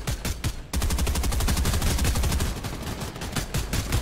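Submachine gun fire in a video game rattles in fast, evenly spaced bursts, loud and close, with rapid individual shots continuing almost without a break for several seconds.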